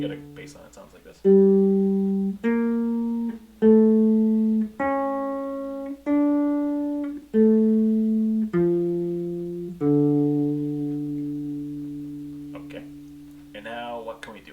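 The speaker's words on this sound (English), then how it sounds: "So you get a bass line that sounds like this." Jazz bass line in a minor key that follows an arpeggio down to a minor chord: eight clear, evenly spaced plucked notes, each decaying, then one longer sustained note that fades out, with a brief noise at the very end.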